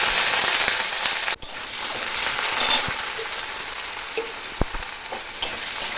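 Diced potatoes fry in hot oil in a wok with a close, bubbling sizzle, broken by a couple of sharp knocks from a utensil striking the pan.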